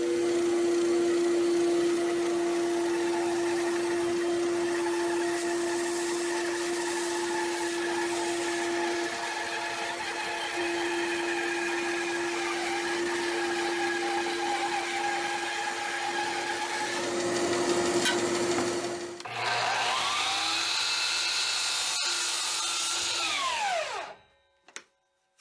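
Bandsaw cutting cherry wood gives a steady, close motor hum with a whining blade tone for about twenty seconds, the sound shifting as the cut finishes, then the machine winds down and stops.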